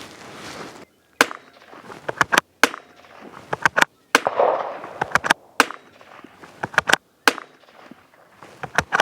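Rifle shots from a CZ 457 or Tikka T1X firing SK Match rounds at a 100-yard target ring out as a quick, uneven series of sharp, loud cracks, with short pauses and faint background noise between them.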